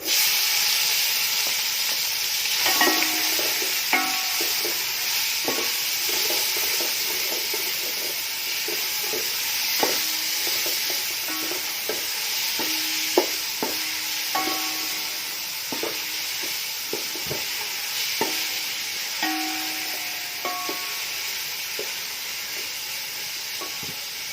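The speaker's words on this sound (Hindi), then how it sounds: "ज़ीरा हमारा इसमें ब्राउन हो गया है। अब हम इसमें प्याज ऐड कर देंगे।" Onions fry in oil with browned cumin, hissing steadily and close by while a spoon scrapes and stirs the pan in repeated strokes.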